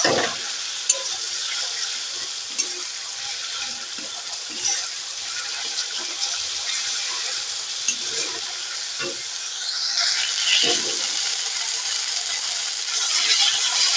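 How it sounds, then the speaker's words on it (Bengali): Gandal (Paederia) leaves sizzle in oil in a pan, a steady close frying hiss with scattered clinks and stirring sounds, growing a little louder toward the end. "এইভাবে গাঁদাল পাতা আমি ভেজে নিলাম।"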